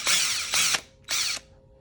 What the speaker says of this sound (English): And it just spins and sharpens. So, and I got it on the drill.